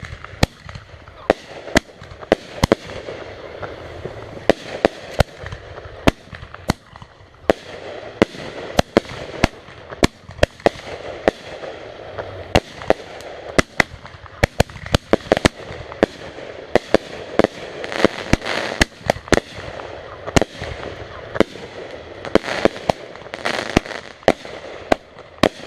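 Backyard fireworks bursting almost continuously, sharp cracks and bangs layered over a dense crackling roar, loud and close, with no pauses throughout.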